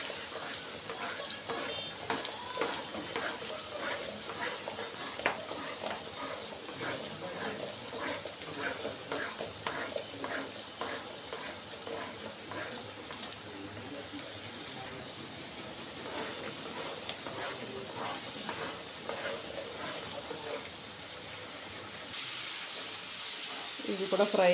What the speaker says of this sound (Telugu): ఇవి కూడా ఇలాగే ఫ్రై చేసుకోవాలి, ఇలా రౌండ్గా తిప్పుతూ